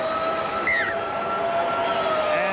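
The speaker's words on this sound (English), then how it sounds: "And there is the siren." The half-time siren sounds at a 2001 NRL preliminary final rugby league match between Cronulla and Newcastle, a steady sustained tone held over the loud crowd roar of a stadium.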